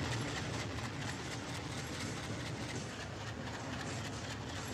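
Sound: passenger train running on rails in Trainz Simulator video game

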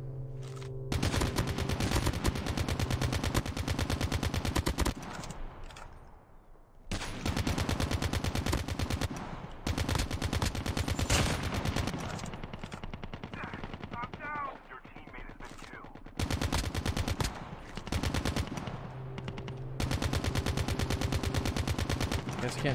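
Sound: gunfire in video game Call of Duty Mobile

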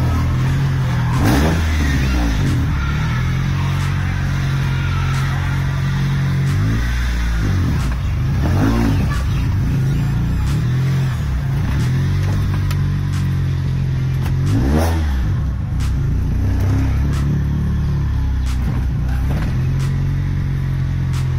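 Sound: life-size Hot Wheels car engine revving

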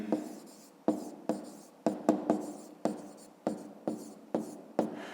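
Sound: writing on paper

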